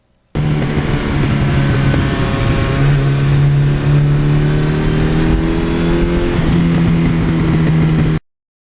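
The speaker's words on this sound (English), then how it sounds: "Now, because this engine is stock, it just takes the gas beautifully" A stock-engined 1982 Suzuki GS1100E motorcycle revs steadily and loudly up close, its note climbing in a few smooth pulls with no hesitation, running without pause until a sudden cutoff.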